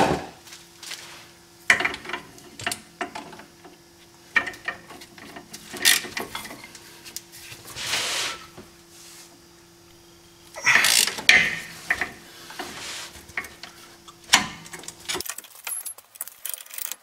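A ratchet works the driveshaft flange bolts loose on an MK3 VR6, with bursts of close metallic clicking and clanking separated by pauses and a steady low hum underneath.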